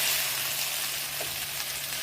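Masala chicken sizzling and frying steadily in a pan as it is stirred, a constant close hiss of oil with no talking.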